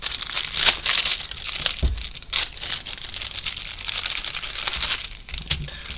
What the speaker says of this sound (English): Okay, so they're in a little plastic bag.